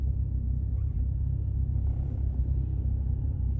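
A VW Golf GTI 16v Mk2 engine idles, a steady low rumble close by with no talk over it.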